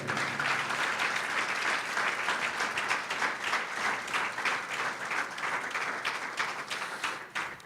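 A church congregation claps for the King in praise during a service about marriage, many hands in a dense, loud burst that stays steady and then thins slightly toward the end.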